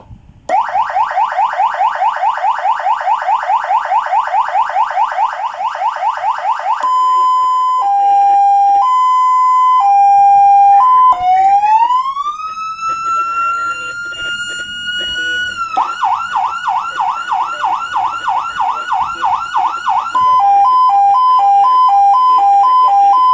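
A CJB200W loud electronic siren cycles through several modes: rapid warbling wails, steady two-tone beeps, a rising sweep and a fast yelp, all loud, close and continuous with no talking.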